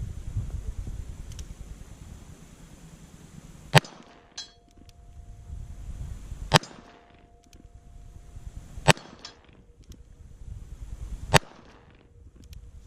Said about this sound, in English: Let's take some more shots.